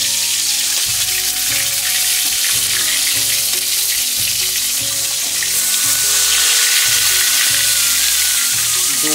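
Fish pieces frying in hot oil in a home kitchen, a loud continuous crackling sizzle up close, with a rhythmic low thumping pulse running underneath and no voices.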